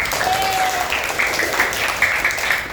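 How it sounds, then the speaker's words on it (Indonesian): A classroom group claps together for group 1, a steady wash of applause holding evenly for a few seconds at moderate loudness. "tepuk tangan untuk kelompok 1"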